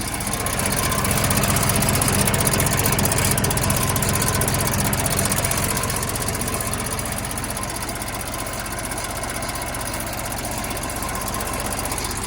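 A neglected John Deere engine runs steadily for twelve seconds, close and fairly loud, with a fast, even mechanical ticking over its idle drone.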